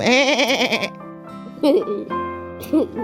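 A goat bleats, heard as a voice imitating it during a children's bedtime story, with a loud, wavering cry followed by a few shorter, quieter bleat-like sounds close up.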